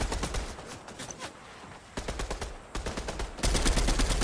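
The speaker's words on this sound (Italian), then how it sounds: "Mi sparano." Fast volleys of automatic weapon fire in Fortnite Chapter 3, loud and close, with dense rapid shots in several bursts separated by short gaps and the heaviest firing at the end.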